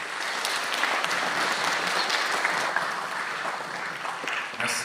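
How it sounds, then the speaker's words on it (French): Applause for school directors at a public gathering, sustained and fairly even clapping from a crowd throughout, with no talk over it. "Applaudissez pour ces directeurs"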